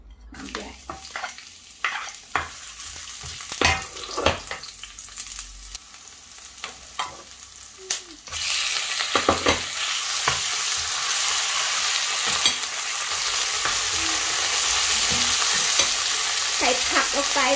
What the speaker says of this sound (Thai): ใส่น้ำมันลงไปบึ้ม